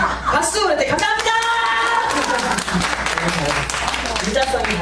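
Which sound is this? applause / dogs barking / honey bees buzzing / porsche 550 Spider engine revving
applause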